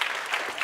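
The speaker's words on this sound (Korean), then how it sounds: "응원의 박수 한번" Brief burst of applause from a church congregation during a Sunday worship service, a short dense patter of many hands clapping at moderate volume.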